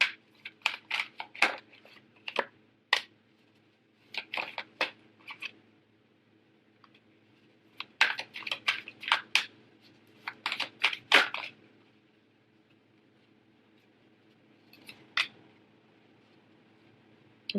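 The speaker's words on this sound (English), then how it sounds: "Okay, I'm going to pull out 3 cards for you guys." Tarot cards shuffled and drawn from a deck, quick crisp flicks and taps in clustered bursts separated by short pauses, close and fairly quiet with no talk.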